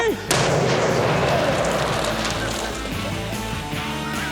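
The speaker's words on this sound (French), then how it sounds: "Je pense qu'on peut dire que pour les explosions, c'est réglé" An explosion goes off at a French-language outdoor recreation event: a sharp crack, then a loud, sustained broadband roar of rumbling debris and crackling that slowly tapers over several seconds.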